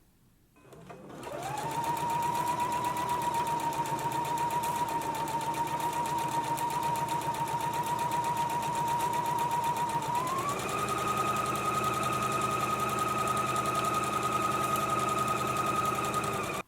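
A domestic sewing machine runs continuously, stitching a 5/8-inch seam on a garment yoke, with a steady whirring motor tone that rises slightly in pitch partway through, close and loud, with no talking.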